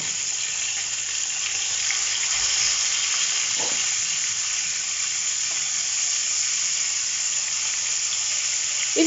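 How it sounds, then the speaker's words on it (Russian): Pieces of hare sizzle steadily in a hot frying pan laid in a single row, a continuous close, bright crackle with a few faint clicks and no talk. "И все, обжариваю."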